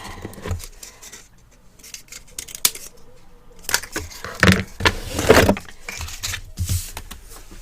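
Scissors snip repeatedly through tape with irregular crisp cuts and rustling, close up, with short pauses between bursts.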